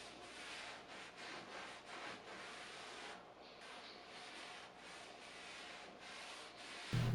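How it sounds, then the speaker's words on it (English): Dark wax is buffed and rubbed by hand into a wooden dining table being whitewashed, a faint, steady scuffing that continues without a break and with no voices. "you're just buffing and rubbing the wax until you get the look that you're looking for"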